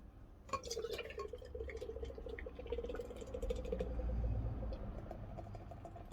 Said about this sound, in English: Pour hard, pour fast.